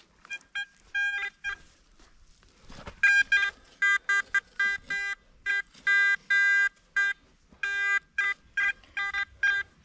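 Beeping signal from a Nowak PI pulse induction metal detector in a field, rapid bursts of bright electronic tones in uneven clusters after a short gap, loud and close with no talk.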